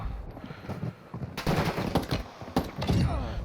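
Desert Eagle pistol shots in Warzone 2, heavy sharp cracks that come in a few quick bursts amid other nearby gunfire. No talking.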